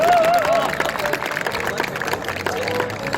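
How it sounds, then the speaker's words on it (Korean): Audience applauding at the 19th Ulsan Buk-gu association chairman's cup jokgu (foot volleyball) tournament: a dense, steady patter of many hands with a faint tone and background music underneath. "박수 부탁드리겠습니다"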